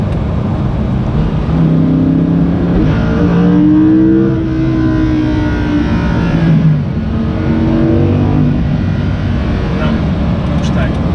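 A Lamborghini Huracán in Corsa mode drones with a steady engine note that rises and falls as it revs, with faint crackles under continuous conversation in the cabin.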